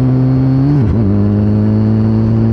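A turbocharged Hayabusa motorcycle engine roars loud and steady at high revs, dipping briefly as the throttle blips before climbing straight back to a sustained full-throttle howl with no talk over it.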